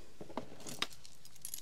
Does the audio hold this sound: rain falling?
no